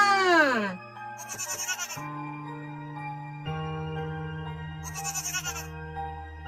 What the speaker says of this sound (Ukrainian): Ця тварина каже ме. Чи ви знаєте мене? Що це діти? Так, це коза.